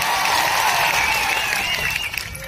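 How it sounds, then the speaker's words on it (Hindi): Loud, steady applause and cheering from a large crowd at a World Tribal Day speech event in Dungarpur, filling the full length without a break. "एक बार जोरदार आपके लिए तालियां बजा दी जाए।"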